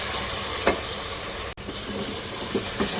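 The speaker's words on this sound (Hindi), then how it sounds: "अब इस मसाले के साथ 2 से 3 मिनट भून लें।" Onion and spice masala with a heavy dose of turmeric frying in a pot for dal mash gosht, a steady loud sizzle with a few stirring scrapes, no talking.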